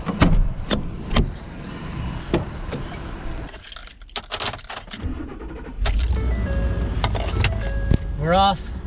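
A car starting out on a drive: clunks and key jangles, then engine and road noise building, with people talking over it close by.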